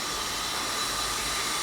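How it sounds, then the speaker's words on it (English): Steam from a boiler is pumped into an autoclave in a car restoration workshop, a steady broad hiss at moderate level without pause or voices. "so that's steam coming from the boiler"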